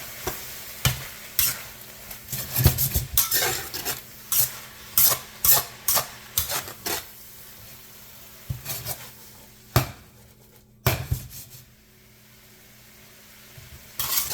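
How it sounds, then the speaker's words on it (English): Jalapenos, ginger and garlic fry in a pan for a red curry pork dish, with a soft continuous sizzle broken by repeated loud scraping stirs in bursts, close up, then quieter sizzling near the end. "You throw in the jalapenos, ginger, garlic. Continue to fry that."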